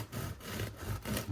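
A knife saws into a warm homemade sourdough loaf, the blade making close, rasping back-and-forth strokes through the crust in a steady rhythm of about four passes.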